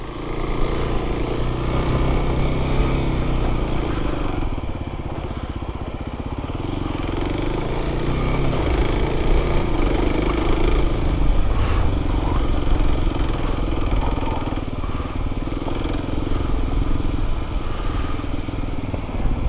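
A motorcycle or ATV engine runs loud and steady near Redington Pass, a continuous rough drone with slight surges in revs lasting about twenty seconds, with no voices over it.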